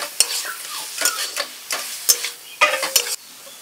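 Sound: stirring and frying kochu shak (taro leaves) in a pan

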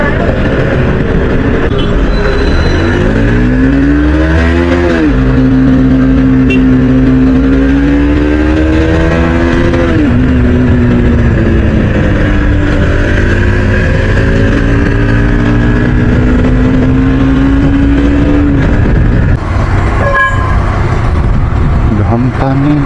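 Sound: motorcycles riding

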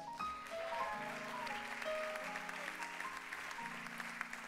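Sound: audience applause at a conference

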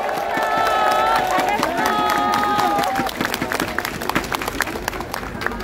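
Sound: crowd applause at a political speech

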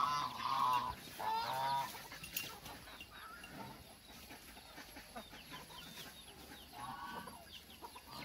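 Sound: geese honking

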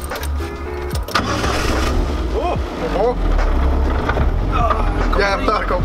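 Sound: Saab engine starting for the first time

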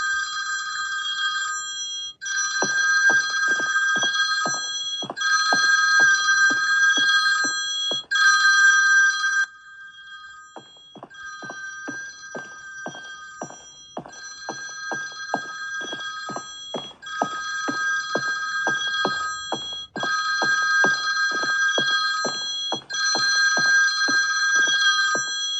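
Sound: telephone bell ringing in a horror video game

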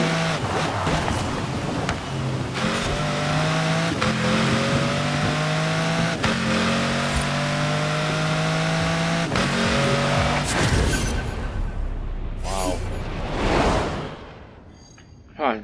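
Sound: car engine racing in the video game Forza Horizon 4

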